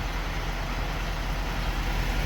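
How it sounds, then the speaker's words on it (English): A truck idles close by, a steady low engine rumble with broadband road-side noise holding constant for a couple of seconds, no talking over it. "That truck over there is idling."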